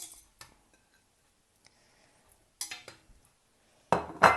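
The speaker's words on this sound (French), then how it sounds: "je viens disposer la viande, voilà, dans la cocotte" Chicken meat set into a casserole pot with sunflower oil: a few separate metallic clanks and knocks of pot and utensil, with near silence between them and a louder clatter at the end.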